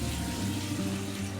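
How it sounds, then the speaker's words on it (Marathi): Water poured into a pot of fried spice masala while making a fritter curry: a soft, steady splashing pour with a low gurgle, fairly quiet and uninterrupted. "आता आपण त्याच्यामध्ये पाणी टाकून घेऊ."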